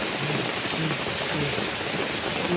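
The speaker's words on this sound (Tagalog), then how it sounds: "Biglaan ng lakas ng ulan." Sudden heavy rain roars in a thick, constant wash of noise, loud and close, with a faint voice briefly audible underneath.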